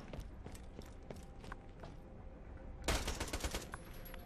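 Gunfire in Borderlands 2, with a steady patter of shots giving way to a louder, denser burst near the end, heard alone without talking.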